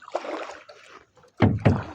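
Oars working a small rowboat on water, two strong splashy strokes close by near the end after quieter water and knocking sounds.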